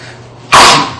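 A single sharp human sneeze bursts out loud and close after a moment of quiet room tone, ending abruptly.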